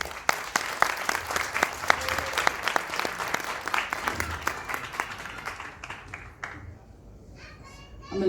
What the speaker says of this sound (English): together let us give Dr. Jason He a loud applause